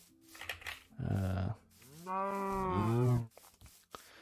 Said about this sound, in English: I can't find anything other than cows